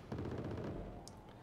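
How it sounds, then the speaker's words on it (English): Cannon fire from a Gazelle helicopter in Wargame Red Dragon, a rapid rattling burst of shots at moderate distance, quieting toward the end with a brief high effect. "The Gazelle cannons doing their job"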